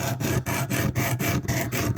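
A knife is sharpened on a KME guided sharpening system, a close rhythmic rasping as the stone strokes back and forth along the blade, about eight quick even passes in two seconds.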